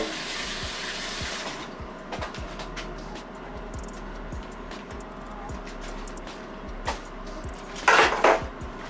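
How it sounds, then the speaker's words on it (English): Tongs rinsed under a running kitchen tap: a steady rush of water with metallic clicks and clatters, and a louder splashing burst near the end. "let me wash my tongs"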